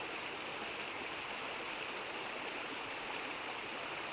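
A river stream in Yellowstone National Park flows steadily, a faint, even wash of running water with no voices or other sounds.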